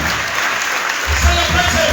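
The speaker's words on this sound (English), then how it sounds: "Clap for him." Audience applause at a public sector reform panel event on the Njala University Mokonde campus, a dense steady wash of clapping lasting the full moment, with a low rumble of crowd noise building partway through.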